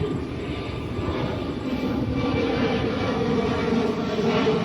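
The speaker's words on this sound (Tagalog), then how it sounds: "May dumaan na aeroplano." An airplane passes overhead, a steady broad engine roar holding at even loudness throughout, with no talking.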